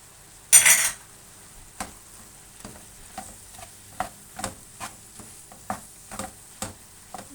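Onions and minced meat stirred in a pan for gözleme filling, with a loud scrape near the start followed by soft, steady rhythmic stirring ticks and a low background hiss.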